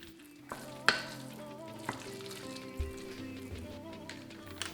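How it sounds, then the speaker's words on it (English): Prawn dumpling filling mixed with cornstarch and oil in a bowl: quiet, wet stirring and a few light knocks of a utensil against the bowl, close and soft. "And give the mixture a good mixing."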